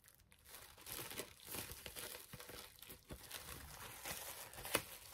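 A John Carpenter film soundtrack vinyl package being unwrapped, with continuous close crinkling and tearing of plastic wrap and a few sharper snaps, fairly loud with no voices.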